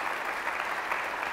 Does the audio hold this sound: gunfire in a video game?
no